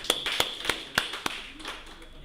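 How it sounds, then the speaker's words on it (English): Scattered hand claps ring out at a convention opening session. About six sharp, separate claps are spaced unevenly and sound faint, with no continuous applause behind them. "Let us give them a hand of applause."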